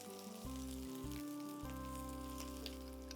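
Oil sizzling steadily in a pan as spices and potatoes fry, a soft continuous hiss with a low hum in the background and no voices.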